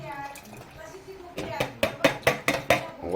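A thick ground masala paste goes into a pot of goat mutton, with a run of six or so sharp metallic clanks from a spoon scraping and tapping the pot, close and fairly loud, after a short stretch of quiet kitchen noise.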